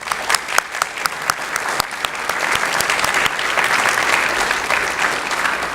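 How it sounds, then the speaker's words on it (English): Round of applause from a banquet hall audience honoring high school alumni Hall of Fame inductees, beginning with scattered sharp claps and swelling into steady, sustained clapping. "can I have another round of applause for the most deserving"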